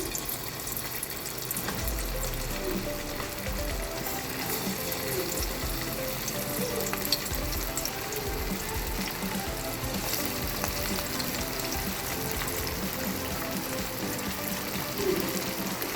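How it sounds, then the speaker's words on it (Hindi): Rice and potato cutlets frying in hot oil, a continuous close crackling sizzle with scattered pops and bubbling that holds steady throughout, no talking. "ये देखें तेल हमारा गर्म हो गया अच्छे से। अब मैं एक एक टिक्कियाँ इसके अंदर डालती हूँ"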